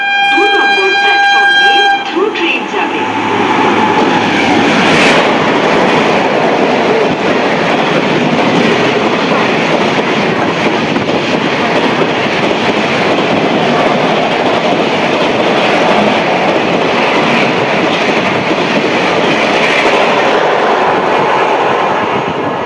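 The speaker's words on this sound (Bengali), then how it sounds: "এটা হচ্ছে ইন্ডিয়ার লংগেস্ট রানিং ট্রেন বিবেক এক্সপ্রেস" The Vivek Express long-distance passenger train, running from Kanyakumari to Dibrugarh, roars past at around 130 km/h, opening with a loud horn blast and followed by a sustained, loud rush of wheels and wagons.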